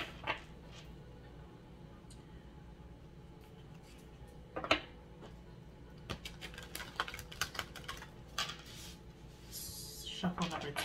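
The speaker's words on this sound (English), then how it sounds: "We're going to go ahead and shuffle." Oracle cards riffle and slap together in quick bursts, brief papery rustles and taps that grow busier toward the end against a quiet room.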